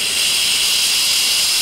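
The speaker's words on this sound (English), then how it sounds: "as the pressure builds, turn the engine blower down" Blower on a 14xx steam locomotive hissing steadily as boiler pressure builds, a loud close continuous rush of steam with no breaks.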